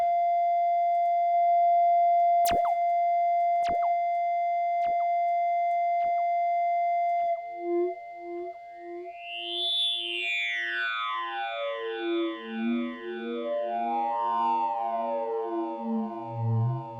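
A steady Karplus-Strong synthetic tone with sharp clicks gives way to a cascade of repeating, delay-echoed synth notes that sweep upward and trail off.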